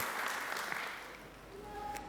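Church congregation applauding during a sermon, a steady wash of clapping sustained for a couple of seconds at moderate distance with no talk over it.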